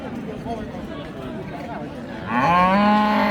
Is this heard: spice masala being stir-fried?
no